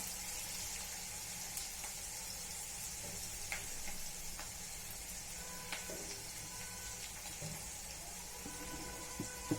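Masala potatoes sautéing in a pan, giving a faint, even sizzle and hiss with scattered small pops and light scrapes, close and quiet, no talking.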